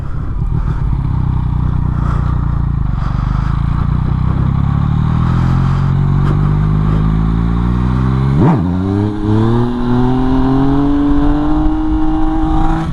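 Loud, close engine of a Yamaha MT-09 motorcycle revving up during a wheelie, pitch sweeping steadily higher with a short break midway before climbing again.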